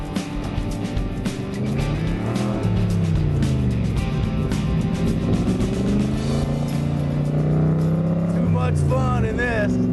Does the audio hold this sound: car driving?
yes